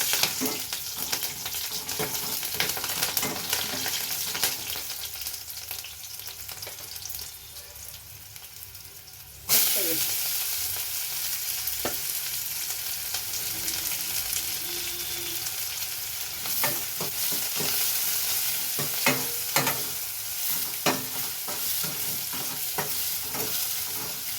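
Green chillies frying in an oil tempering for a curd dish: a quieter background sizzle jumps into loud, crackling frying partway through, with steady stirring scrapes and no talking.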